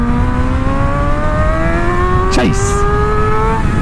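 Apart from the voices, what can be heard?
motorcycle accelerating during wheelie, throttle yank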